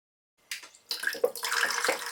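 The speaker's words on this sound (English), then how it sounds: "When they mix together, we get a fizzy reaction and a new color." Vinegar and baking soda liquids mix in a DIY steampunk drink dispenser, with a short splash, then a steady close-up rush of pouring, fizzing liquid.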